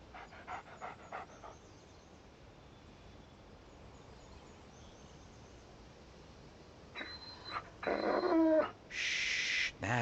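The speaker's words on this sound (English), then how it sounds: "Shh. That's a good dog." A dog pants in the video game Alan Wake: a quick run of rhythmic, breathy huffs up front, then a quiet stretch and a few louder, harsher bursts near the end.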